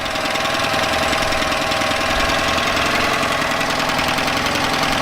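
A Yamaha 9.9hp outboard motor runs steadily after a diaphragm replacement, a loud, close, continuous mechanical clatter with a rapid knocking pulse and no voices.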